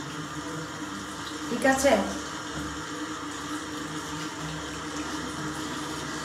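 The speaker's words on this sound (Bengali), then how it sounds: "আমি হাতটা ধুয়ে ফেললাম" Hands are washed under a running tap, a low, steady trickle of water with a brief louder splash near the start, heard close under ongoing talk in Bengali.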